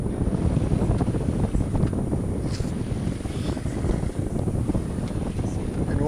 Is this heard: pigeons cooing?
no